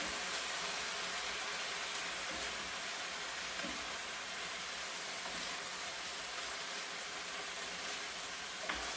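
Pork and green onions stir-fry in a hot pan, giving a steady, even sizzle with no pause, fairly quiet and close, with a few faint clinks from stirring.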